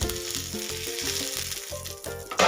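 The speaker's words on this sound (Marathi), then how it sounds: "मी इथे घेतलंय तेल गरम करून, ते आता याच्यामध्ये घालून घ्यायचं." Hot oil poured into a chutney sizzles loudly and crackles in quick, uneven bursts, close up and continuous, with no voices.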